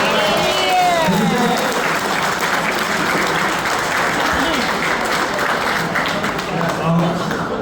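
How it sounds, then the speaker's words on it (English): Diners at a brewmaster dinner clap steadily for the kitchen team, a continuous round of applause with voices and a whistle-like cheer mixed in underneath. "can you please give them a round of applause?"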